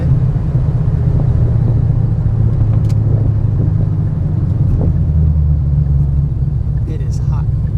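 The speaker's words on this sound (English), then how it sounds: "it's still spinning the tire quite heavily" A 2014 Ford Shelby GT500 with a repaired fuel system revs loudly, its engine rumble steady and heavy, with the tire spinning under load, close and continuous throughout.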